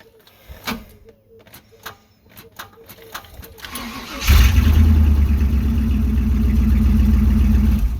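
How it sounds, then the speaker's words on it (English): A Chevrolet Tahoe engine turning over: a few clicks and whirs, then it catches and settles into a loud, steady idle close by, with someone talking before it starts. "let's go ahead and see if I can't get it to crank over"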